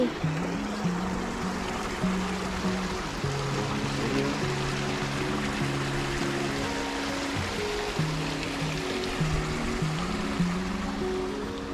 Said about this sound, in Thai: นอนแบบได้ยินเสียงน้ำไหลธรรมชาติมาก